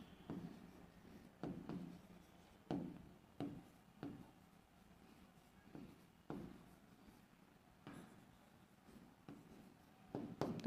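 Chalk or marker writes on a board during a physics class, making a series of short scratchy strokes in irregular bursts, fairly close and quiet, with no talking.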